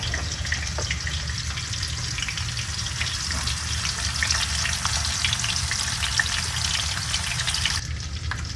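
Battered shrimp fry in hot oil, a continuous dense sizzle and crackle holding steady at close range, with no voices over it.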